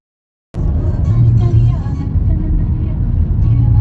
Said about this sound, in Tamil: ஆஸ் யூஷுவல் டிராஃபிக் தான்.